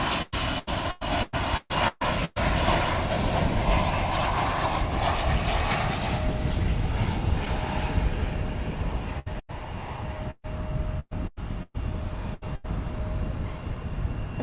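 An American Airlines jet at DFW Airport roars loudly and steadily throughout, a continuous broadband engine rumble with no talk over it, heard from a plane-spotting spot beside the runway.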